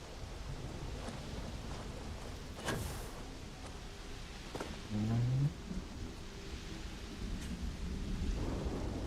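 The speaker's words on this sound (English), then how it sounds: "It's starting to rain now." Rain and thunder from a weather mod in the video game Starfield: a constant hiss of falling rain with scattered cracks and low rumbles of thunder rolling through at intervals.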